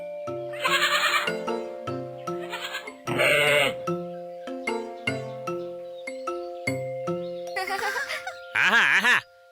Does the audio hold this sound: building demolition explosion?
no